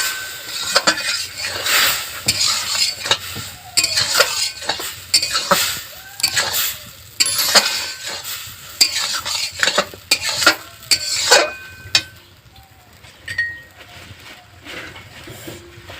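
Light frying and stirring for jhal misti patishapta, a sweet-and-savoury Bengali pancake: a spoon scrapes and clinks against the pan in quick repeated strokes over a faint sizzle, close and fairly loud, with no talking.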